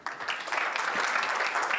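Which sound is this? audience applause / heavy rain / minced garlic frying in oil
audience applause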